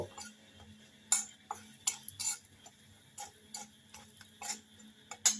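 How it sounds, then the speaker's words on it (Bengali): A metal spoon stirs Kashmiri chili powder through hot ghee in a wok, giving irregular clinks and scrapes against the pan, some sharp and close, with quiet gaps between. "কড়াইয়ে এক চামচ ঘি দিয়ে দিলাম ঘিটা গরম হয়ে গেলে এক চামচ কাশ্মীরি লঙ্কা গুঁড়ো দিয়ে ভালোভাবে নেড়ে নেব"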